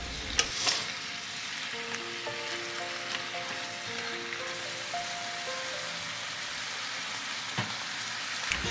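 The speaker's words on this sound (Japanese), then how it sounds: "ほうれん草を加えてさっと炒めて、小さくなったら醤油とみりん各大さじ1、バター 15g を加えて炒めます" Spinach stir-fried in a pan with soy sauce, mirin and butter gives a continuous, even sizzle with faint stirring ticks and a soft tonal hum underneath, steady throughout with no speech.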